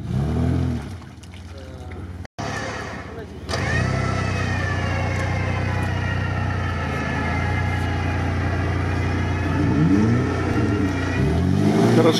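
A GAZ-67 off-road vehicle drives a rough, branch-strewn track, its engine revving hard with rising pitch after a brief cut-out, staying loud and close throughout, with faint voices now and then.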